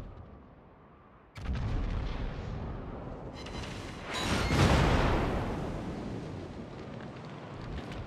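Heavy naval artillery in a World of Warships battle involving a Yamato battleship: a sudden loud boom opens a long rumbling roar, then a second swelling blast that slowly fades into low, windy rumble, with no voices.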